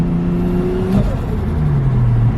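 A turbocharged Nissan R33 Skyline engine revs hard and accelerates, its loud, close drone rising in pitch, briefly dipping at a gear change, then climbing again.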